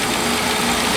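A refrigerant recovery machine pulls leftover gas from a 5-ton AC unit at a market in Puerto Rico, running as a steady, loud motor hum with an even drone throughout and no talk.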